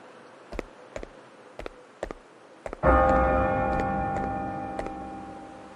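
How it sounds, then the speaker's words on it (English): In the video game Bravely Default II, a bell strikes once, loud and ringing, after a series of sharp, evenly spaced ticks. Its tone hangs and slowly fades over several seconds, and no voices are heard. "The bell!"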